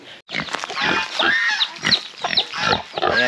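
Pigs on a farm grunting and squealing close by, a busy run of overlapping snorts and nasal squeals with short gaps, loud and continuous without any talking.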